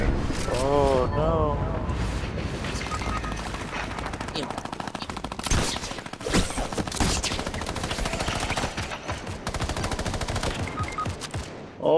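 Rapid machine-gun fire and scattered shots in a video game shootout, loud and continuous bursts with occasional gaps, under excited voices talking and shouting.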